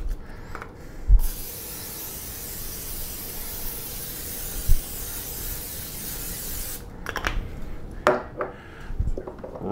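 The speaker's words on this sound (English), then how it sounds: "Some olive oil cooking spray for a little flavor." A steady hiss of olive oil cooking spray runs for several seconds, bracketed by a few clunks and light handling noises before and after.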